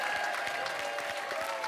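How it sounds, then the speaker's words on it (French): Studio audience applause on a French midday TV game show, dense steady clapping throughout, fairly loud and continuous with no talk over it. "On peut applaudir"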